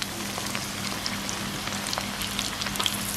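Pieces of cuttlefish seasoned with chilli powder and salt frying in hot oil, giving a steady close crackle and sizzle with scattered sharp pops and no talk.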